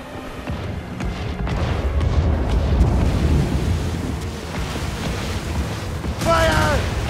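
Deep booming cannon fire and explosions aboard a naval battle in Assassin's Creed Rogue, a heavy rolling rumble swelling and fading, with a brief voice shout near the end.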